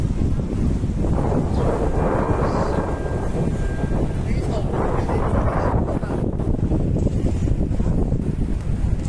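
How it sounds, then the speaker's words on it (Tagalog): Steady wind buffeting outdoors by the water at Sai Kung, Hong Kong, a constant low rushing roar with broadband gusts across the whole span. "Mahangin pati yung buhok. Mahangin sa labas."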